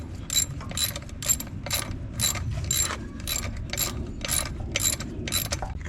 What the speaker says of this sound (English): a 7mm Allen wrench will get it off